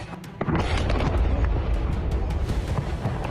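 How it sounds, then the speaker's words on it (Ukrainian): Heavy explosions from a night drone strike on the Morozovsk airfield in Rostov boom with a deep, sustained rumble, loud and continuous after a sudden onset, with sharp cracking bursts scattered through it. "Лунають потужні гучні вибухи, а потім починається пожежа"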